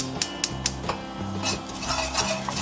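Flour stirred in leftover oil in a pan for a ketchup-based steak sauce: a utensil scrapes and taps against the pan with light clinks over a soft sizzle, no talking.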